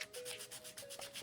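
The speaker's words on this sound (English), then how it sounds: "Sand a little, test a little." A painted 3D-printed drawer part is sanded by hand in short back-and-forth strokes, a close, soft rhythmic scratching of about six passes in quick succession.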